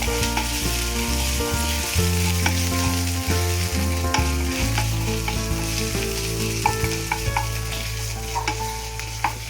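Grated ginger is stirred and sautéed in a hot pan while making raw jackfruit kofta, giving a steady close sizzle with repeated spatula scrapes and clinks throughout, no talking.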